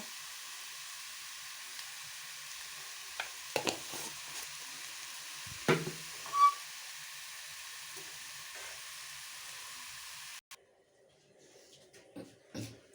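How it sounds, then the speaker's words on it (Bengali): Salted mushrooms frying in a pan in a home kitchen give a faint, steady sizzle with occasional stirring clatters, and the sizzle cuts off near the end, leaving quieter clinks. "একটু নুন দিয়ে দেব তারপরে মাশরুমটাকে ভালো করে ভেজে নেব"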